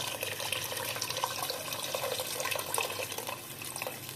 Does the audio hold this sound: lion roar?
no